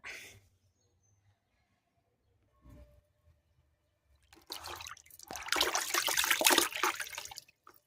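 Liquid fertilizer water poured onto a potted double hibiscus plant, a faint early trickle followed by a louder steady splashing pour lasting several seconds, close by.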